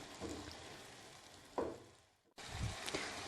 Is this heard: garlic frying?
yes